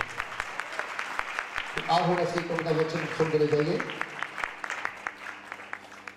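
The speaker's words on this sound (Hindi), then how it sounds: "जोर से ताली बजाओ" A church congregation at a Lakhwinder Mattu Ministries service claps in a steady rhythm, sharp regular claps continuing under someone speaking and briefly singing.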